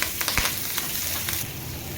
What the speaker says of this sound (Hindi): बस हरी मिर्च को 2 मिनट के लिए सौते कर लेते हैं